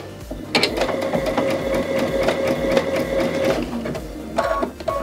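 A Baby Lock sewing and embroidery machine stitches continuously at a rapid, even mechanical rhythm, close and clear, pausing briefly near the end before starting again.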